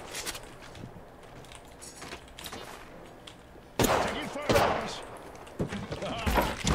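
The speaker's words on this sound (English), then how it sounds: "Keep shooting at him" Gunfire in a multiplayer shooter video game, bursts of shots that grow sharper and louder partway through, with players talking over it.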